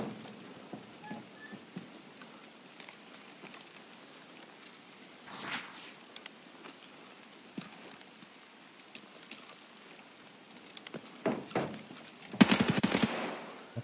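M4 rifle gunfire in the video game Escape From Tarkov, heard as a few scattered shots and a short burst midway, then a louder, denser rapid burst near the end over quiet ambience.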